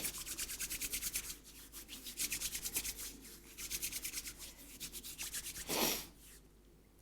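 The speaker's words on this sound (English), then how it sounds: "Maybe we want to rub them together." Hands rub together in rhythmic back-and-forth strokes, a soft, close, dry swishing repeated many times in bursts of even rhythm with brief pauses, ending in one longer rub, in a quiet room during a calming yoga practice.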